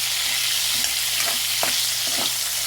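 Food fries in a pan until golden with a loud, steady hiss of bubbling oil, broken by a few faint stirring scrapes.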